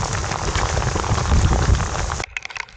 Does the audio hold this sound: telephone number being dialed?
no